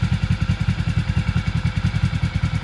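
A turbocharged Honda CBR500 motorcycle engine idles close by, its steady low-pitched chugging pulsing in a fast, even rhythm with no voices.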